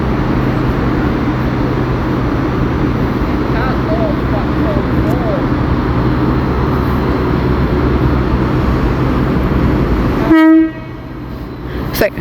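A GWR train rolls through Milton Keynes Central station on the West Coast Main Line, its loud, steady rumble and wheel noise filling the platform before a brief horn-like tone sounds near the end and the din drops away.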